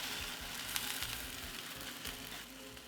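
Soaked green grams tipped into a hot pot, sizzling and frying steadily with a broad hiss, fairly quiet and even throughout with no talking.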